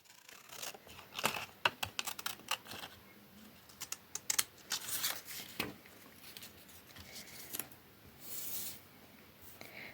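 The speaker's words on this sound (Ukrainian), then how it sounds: "Беремо ножиці та відрізаємо." Scissors snip through paper to cut a corner off a square for a children's transport-themed paper appliqué, producing a quick series of close, crisp cuts and rustles that come in irregular bursts and then taper off.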